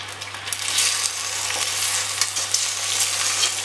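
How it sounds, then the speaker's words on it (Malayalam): Cooked, washed ada rice flakes tipped into boiling jaggery syrup for ada pradhaman, giving a steady close sizzle and bubbling with faint stirring scrapes throughout, no voices. "ശർക്കര പാനി ഇവിടെ തിളച്ചിട്ടുണ്ട്. ഇനി ഇതിലേക്ക് നമ്മളിവിടെ വേവിച്ച് 2-3 പ്രാവശ്യം കഴുകി അതിൻ്റെ പശ എല്ലാം കളഞ്ഞ് ഇതേപോലെ എടുത്തു വച്ചിരിക്കുന്ന അട ഇട്ട് കൊടുക്കുക"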